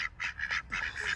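Ducks quack in several short, nasal bursts in quick succession, nearby and clear, with no voices present.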